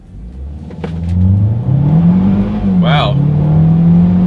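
A 2022 Kia Soul accelerates hard at full throttle from inside the cabin, its engine note rising steadily in pitch and holding loud and close for several seconds. A voice briefly exclaims partway through.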